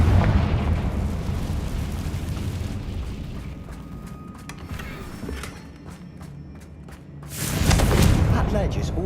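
A Confringo fire spell explodes in Hogwarts Legacy, a loud booming burst near the end that rises over a dense bed of rumbling game noise.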